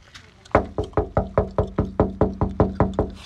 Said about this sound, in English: Knock on this daggone door.